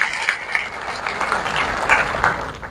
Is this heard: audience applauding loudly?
yes